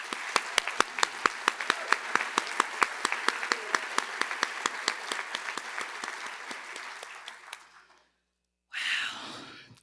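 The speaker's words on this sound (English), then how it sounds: "Please join me in another round of applause for Ms." An evening event audience applauds, a sustained round of clapping with a few sharper claps standing out, tapering off and stopping before a brief burst of crowd noise at the very end.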